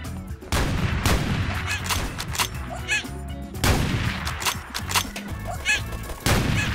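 Gunfire in the monkey-themed shooter Apewar, repeated loud shots in quick bursts with short gaps, layered over busy game effects and squawking ape calls.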